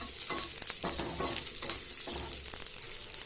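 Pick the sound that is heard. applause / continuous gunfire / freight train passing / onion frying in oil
onion frying in oil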